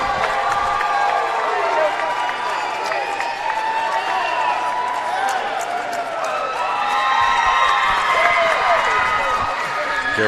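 Crowd cheering at an amateur boxing event, a steady roar of many voices with whoops and claps filling the hall throughout, with an announcer talking over it.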